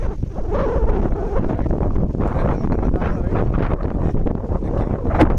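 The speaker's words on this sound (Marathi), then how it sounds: "तो वारा एवढा भरपूर आहे की मी काय बोलतो आहे ते पण तुम्हाला ऐकायला येणार इतका वारा आहे" Strong wind on Nivati beach on the Konkan coast, buffeting the microphone in a loud, continuous low roar that gusts unevenly throughout, close and dominant, with no voices audible.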